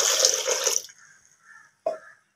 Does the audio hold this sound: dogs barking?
no